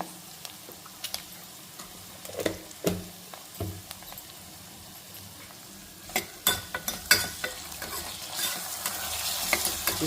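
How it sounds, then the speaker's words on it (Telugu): Ginger garlic paste frying with softened onions and cumin in a pan, with a spoon clicking and scraping in scattered strokes over a low, steady sizzle that swells louder toward the end. No one speaks. "ఇందులో ఇప్పుడు అల్లం వెల్లుల్లి పేస్ట్ కొంచెం వేసుకోవాలి"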